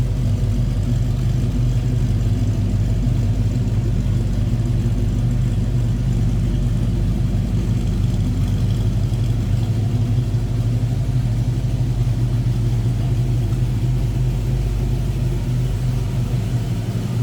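A 1940 Ford Deluxe Convertible street rod idles steadily with a deep, even low rumble, close and continuous for the whole stretch, no voices over it.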